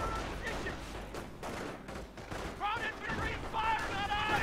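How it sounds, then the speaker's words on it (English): Aircraft strafing gunfire in a WWII strategy game rattles out as bursts of rapid shots with sharp impacts, mid-distance and moderately loud, under a voice commenting over the action. "We have another strafe killing the pack gun."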